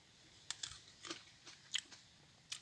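Someone bites and chews a crunchy table grape fresh from the vineyard, giving a quiet, close series of irregular crisp crunches with short pauses between them, no talking.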